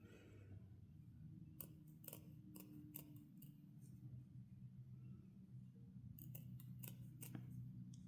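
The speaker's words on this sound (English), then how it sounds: "do small little snips at a time and keep coming out and going back up underneath of it" Scissors make small snips through fur fabric for a homemade barbarian costume, heard as short, crisp cuts in two close clusters with quiet pauses between them.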